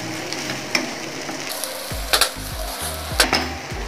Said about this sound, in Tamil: இந்த மாதிரி நல்லா மிக்ஸ் பண்ணிவிட்டு ஸ்டவ் ஆஃப் பண்ணிடலாம்.